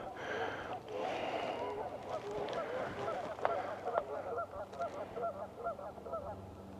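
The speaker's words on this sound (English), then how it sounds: "I hope the mic's picking up the geese, because they are loud" Loud, repeated honking from a flock of geese at a reservoir in a state park, calls overlapping in a steady chorus for the whole stretch with outdoor background noise beneath.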